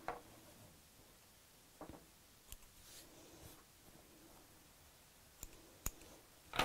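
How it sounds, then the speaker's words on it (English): Scissors snipping loose sewing threads off a fabric tea cosy, a few quiet, sharp clicks and snips spread across a near-silent background. "snip off those threads"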